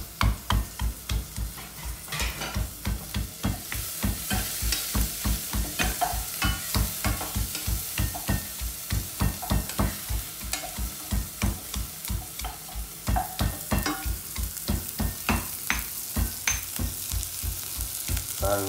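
Onions frying in a pan for shrimp curry, brisk rhythmic stirring strokes scraping the pan over a constant sizzle, close and steady throughout with no voices.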